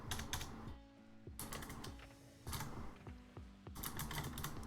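Rapid clacking on a computer keyboard in quick bursts of keystrokes separated by short pauses, close and crisp, with a faint low hum behind it.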